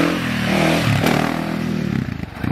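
KTM 450 dirt bike engine running close by, a loud steady buzzing drone that rises briefly in pitch, then breaks into choppy pulses as the throttle eases off, with no talking.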